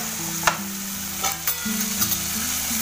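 Onions frying in a pan sizzle steadily up close while a utensil stirs with a few sharp scraping knocks, and no voices are present.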